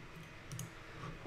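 Computer mouse clicks, a couple of faint small taps over a low room hum, close and quiet.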